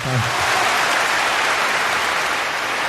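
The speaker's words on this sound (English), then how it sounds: "I like it better when you clap." Audience clapping, loud and dense, a sustained wash of applause filling the room from start to finish, with a brief vocal sound at the very beginning.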